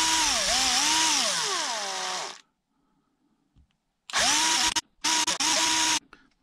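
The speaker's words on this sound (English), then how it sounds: "Drill seems already to be dull now." A 1.6 mm drill bit spins up to clean out the holes of a steel bead lock wheel, a steady close whine running about two seconds, then silence, then two more short bursts with brief stops between.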